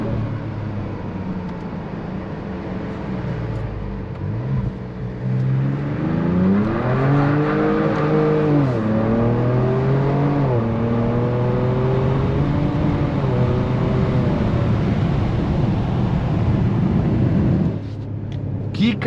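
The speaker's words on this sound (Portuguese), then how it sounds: "O ronco também é muito massa" A Ford Ranger Raptor V6 pickup engine roars steadily as it accelerates, its note climbing through several gear-like rises and then settling. It is loud and continuous, with no speech.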